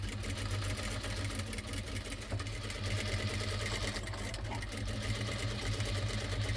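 A sewing machine stitches the neck lining of a churidar, a steady rapid mechanical chatter that hums on close by throughout.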